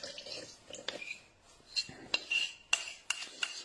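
Chocolate quatre-quarts cake batter is tipped out of a bowl, heard as scattered close clinks and scrapes of a utensil against the bowl, quiet between the taps.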